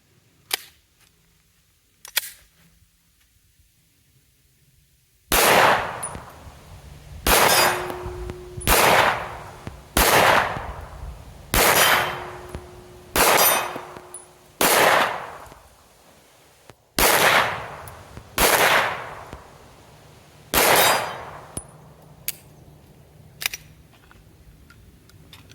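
A pistol fitted with a red dot sight fires a second magazine: loud, sharp single shots ringing out one after another at an uneven pace, preceded by a few quiet clicks, with no talking.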